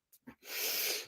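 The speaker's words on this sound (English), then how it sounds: "I have to like clear my throat" A short, close throat clearing: two quick little huffs followed by a raspy, breathy rasp, alone and fairly quiet.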